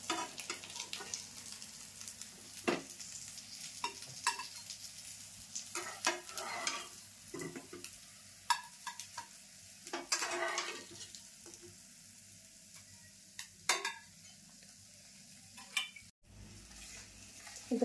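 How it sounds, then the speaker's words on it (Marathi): Bombay duck fish frying in a pan over low heat, a continuous soft sizzle broken by clinks and scrapes of turning and lifting the pieces, no one talking. "आता बाकी राहिलेले पण तसेच तळून घेते मी."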